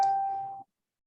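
A phone gives a short electronic notification tone, a single clear ding that rings out and decays within about half a second before cutting to silence, heard alone without speech.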